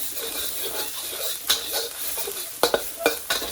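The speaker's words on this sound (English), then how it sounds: "drop our garlic in. I'm gonna cook off that garlicky taste" Garlic frying in hot oil for chili crispy beef gives a steady, fairly quiet sizzle, broken by several sharp scrapes and clacks of a utensil stirring the pan near the end.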